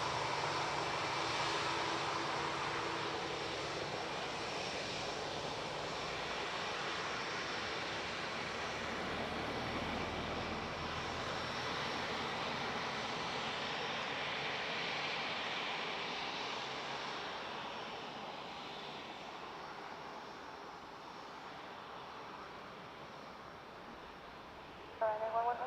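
Aer Lingus airliner arriving from Naples on approach to Dublin Airport, its engines a broad continuous roar heard from a distance that slowly fades toward the end, with a voice talking over it.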